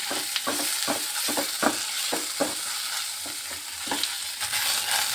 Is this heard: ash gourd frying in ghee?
yes